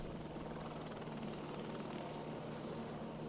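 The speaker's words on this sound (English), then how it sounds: "Do I hear a helicopter?" A helicopter drones steadily overhead, a continuous far-off rotor and engine roar that holds even and unbroken throughout with no talking.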